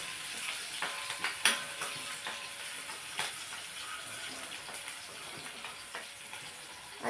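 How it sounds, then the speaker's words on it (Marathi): A tempering of spices with fenugreek, coriander seeds and chillies for kadhi gole crackles in hot oil, with a soft steady sizzle broken by irregular sharp pops and spatters, fairly quiet and close. "आता आपण ही फोडणी व्यवस्थित करून घ्यायची."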